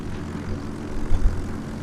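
Fighter plane engines in the naval war game Yorktown, a steady low propeller drone with a brief swell and thump near the middle, alone without speech.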